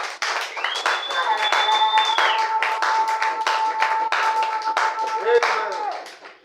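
A church congregation claps together in a sustained run of applause after a sermon, with a voice and a held tone carrying over the clapping.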